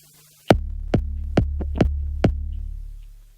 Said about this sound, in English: you see the bass drum 2, which I'll let you hear now